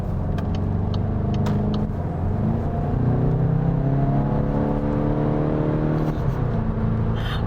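Volkswagen Golf GTI in sport driving mode accelerating hard, a steady loud engine drone rising in pitch through the gears from inside the cabin, with no talking.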